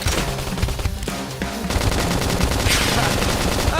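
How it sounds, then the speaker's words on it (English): Rapid gunfire in the video game Xenoblade Chronicles X, dense bursts of shots rattling close and loud over game music and battle effects, with a short lull before the firing resumes. "Now, topple them with some gunfire!"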